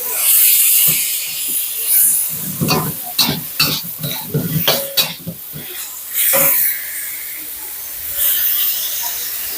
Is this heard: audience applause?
no